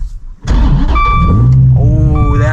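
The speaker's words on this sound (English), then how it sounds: "Starting it up." A 2017 Dodge Viper GTS-R engine cranks and fires up with a sharp burst, then settles into a loud, deep rumbling idle up close.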